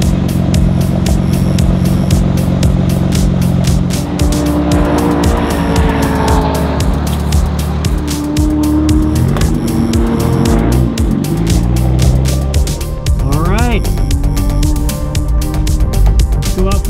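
A race car runs a first track session on fresh tires, its loud engine roaring continuously close by, rising and falling through revs and gear changes, with brief tire squeal in the corners.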